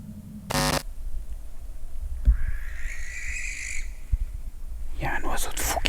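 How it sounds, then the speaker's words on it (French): A bird calls while circling overhead in a cemetery at night: a few harsh, raspy squawks at moderate distance, with broken talk before and after the calls. "Il y a un oiseau de fou qui me tourne autour."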